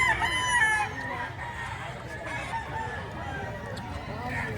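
A rooster crows once at a chicken market in Lipa, Batangas. The bright, clear call comes first, then fades into a murmur of market background and faint clucking.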